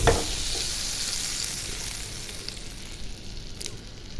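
Butter melts in a pan for pasta, giving a continuous close hiss and sizzle that starts strongest and eases slightly over a few seconds, with no talking.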